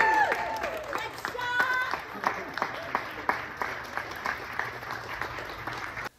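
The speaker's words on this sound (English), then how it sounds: "All store associates welcomed the shoppers by a standing round of applause" Store staff at a store opening applaud arriving shoppers, with lively crowd cheering at first and then sustained clapping close by.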